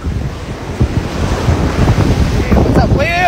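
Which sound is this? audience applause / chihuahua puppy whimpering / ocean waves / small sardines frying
ocean waves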